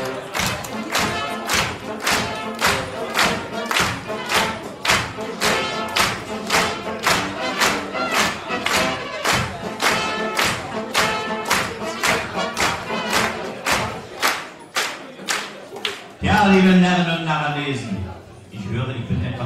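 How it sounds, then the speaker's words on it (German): Audience in a hall at a cultural evening in Schwerin claps along in a steady rhythmic clapping march, loud and continuous with regular beats, ending in a burst of broader applause and voices. "mit eurem begleitenden Beifall und einem zünftigen Klatschmarsch"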